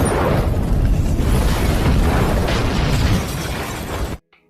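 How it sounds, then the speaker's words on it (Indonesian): A workshop explodes in a film scene, a loud, roaring, crackling blast that rumbles for about four seconds and then cuts off abruptly. "bengkel itu pun akhirnya meledak bersamaan dengan ruang rahasia pembuatan Narkoboy milik Gator"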